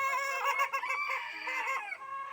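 Chickens cluck and call continuously at close range, a busy flock of fowl with overlapping squawks and a crow-like note, no talking over them.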